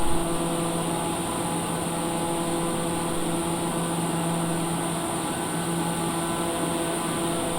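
A TBM 930 turboprop in flight during a right turn, heard from inside as a steady, loud drone with a constant tonal hum and broadband rush throughout, no talking.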